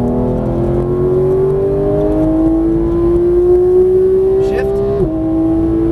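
Accelerating hard around a racetrack, a Porsche GT3 engine wails with rising pitch for several seconds, then dips sharply at an upshift and keeps pulling, loud and close inside the cabin with a voice speaking over it.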